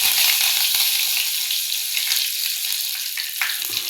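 Steady, crackling sizzle of mustard seeds and curry leaves frying in hot oil, loud and continuous with small pops, no voices.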